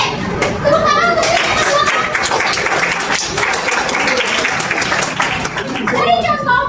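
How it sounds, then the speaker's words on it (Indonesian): Loud, sustained applause from students in a school economics class, dense clapping that fills the whole stretch with voices faintly mixed in. "Oke, tepuk tangan untuk"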